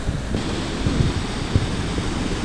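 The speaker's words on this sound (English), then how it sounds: "Here we are at the top of Vernal Falls." Vernal Falls in Yosemite roars as a continuous loud rush of falling water from the top of the falls, with wind buffeting the microphone.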